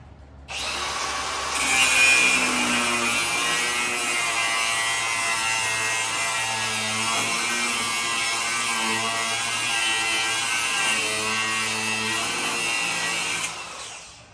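A power saw cuts through the tie rod of a totaled Duramax truck being torn down, a continuous loud grinding whine holding steady for about twelve seconds, close by.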